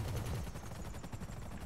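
A helicopter's machine gun fires a rapid, continuous burst in a Grand Theft Auto game, dense rattling shots at steady volume with no talk.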